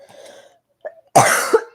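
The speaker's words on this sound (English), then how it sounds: "I can't stop coughing" A person coughs after smoking hookah: quiet breathy throat sounds, a brief pause, then one loud, harsh cough burst up close.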